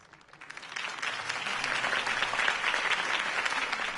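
Crowd applause in the Batman Telltale Series game follows Harvey Dent's campaign speech, rising within the first second into a steady, dense clapping that carries on to the end.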